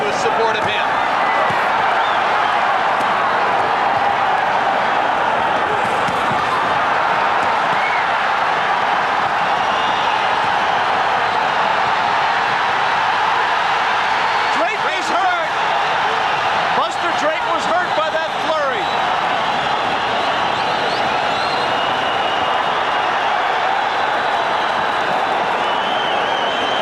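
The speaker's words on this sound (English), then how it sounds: "This crowd will rise in spectacular and tumultuous support of him." A boxing crowd roars continuously and loudly in support of Matthew Hilton during his IBF junior middleweight title fight against Buster Drayton, under steady ringside commentary.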